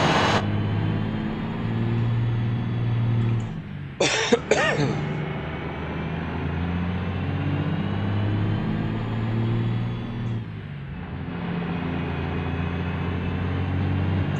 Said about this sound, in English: Hang on while I have a coughing fit.